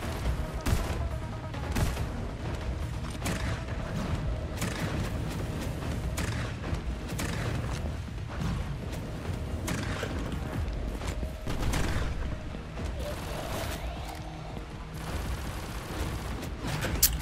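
Weapons firing in the arena shooter video game Afterblast, short-range guns. Dense, continuous rapid gunfire and explosive booms fill the whole stretch at steady loudness, with mechanical clatter mixed in and no talking.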